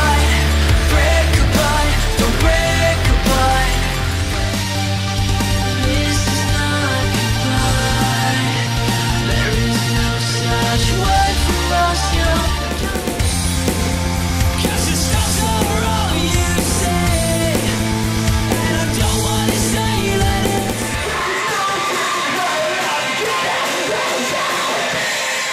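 Loud, dense electronic rock plays continuously, with driving bass, distorted guitars and synth layers, and a heavy low end that drops away near the end.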